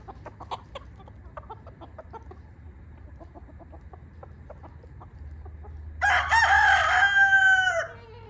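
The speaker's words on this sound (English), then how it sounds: "Come on, chicken." Chickens cluck in scattered, soft calls over a low background hum. Then a rooster crows once, loud and close, in a long drawn-out call near the end.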